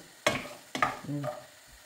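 Chopped onion goes into a pan for zucchini pasta, landing with two sharp scraping hits followed by a soft sizzle and stirring, close and fairly quiet.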